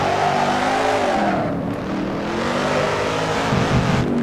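Simulated car in Assetto Corsa revving hard on a hillclimb, a loud continuous engine drone with shifting harmonic pitch and wheel-spin tire noise, steady throughout with no talk.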